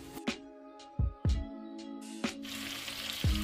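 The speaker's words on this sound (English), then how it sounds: "we're gonna allow our smoked sausage to brown" Cut smoked sausage links browning in a pot, with sizzling and frying that crackles and spits, sharp clatters of stirring or utensils knocking the pot, and a broad hiss rising toward the end.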